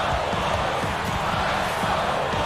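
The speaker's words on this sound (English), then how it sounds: "You gotta love hearing a crowd get this fired up." A basketball arena crowd roars after a big shot in an Eastern Conference game, forming a dense, loud, sustained wash of cheering that fills the whole moment without pause.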